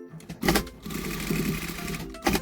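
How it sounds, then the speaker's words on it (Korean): A sewing machine stitches a denim skirt being made into a bag, its rapid mechanical chatter running steadily and close, with brief pauses and restarts and no talking. "여기 표시된 대로 그냥 박음, 박음질 하면 될 것 같아요"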